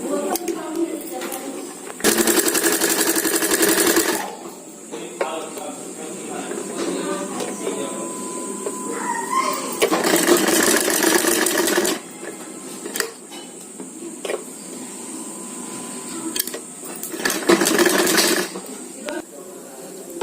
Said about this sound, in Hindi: उसके बाद हमने ये पूरी राउंड करके सिलाई कर देनी है